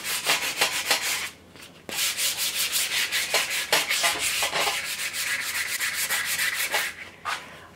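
A wooden axe handle is sanded with 100 grit sandpaper in steady, close back-and-forth rubbing strokes, loud and continuous with a brief pause partway through and no talking.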